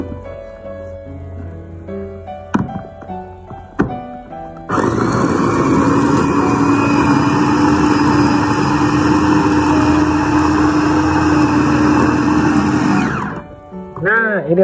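An electric food chopper grinds leaves with seasoning for crispy instant-noodle crackers, a loud steady motor whir and churning that runs about eight seconds and then stops, after some handling clatter and light talk.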